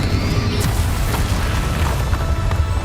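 Confringo fire spell exploding in Hogwarts Legacy gameplay, a dull booming blast with a rushing crackle that fills the short moment at steady loudness.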